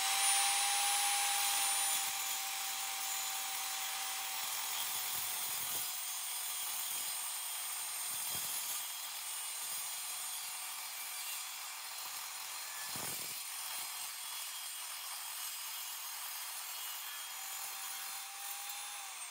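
A saw cuts steadily through 3-inch square aluminum stock, giving a continuous high-pitched whine with a faint rasping undertone, moderately loud and unbroken for the whole stretch, with no voices.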